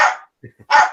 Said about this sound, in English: It's barking mad, that dog is.